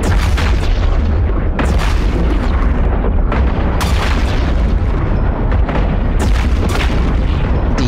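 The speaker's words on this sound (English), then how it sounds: "let's just lock it up and shoot it" Ship weapons in the EVE Online space game fire continuously, with dense, loud booming blasts and explosions overlapping throughout, rapid bursts rising every second or so over a constant heavy rumble.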